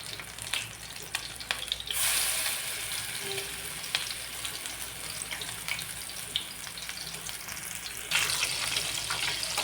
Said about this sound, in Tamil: எண்ணெய் சூடு வந்தோன்னா இதை மாதிரி தட்டி இந்த மாதிரி போட்டுக்குங்க.